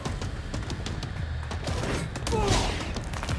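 Sustained gunfire rattles through a firefight in the video game Control, dense and continuous with a loud swell near the end, under music and game ambience.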